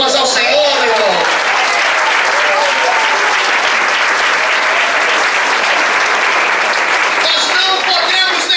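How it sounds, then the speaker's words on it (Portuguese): Loud, sustained applause from a large church congregation during a communion service fills the whole stretch, steady and dense, with a few voices audible at the start. "Dá uma salva de palmas ao Senhor, meu irmão."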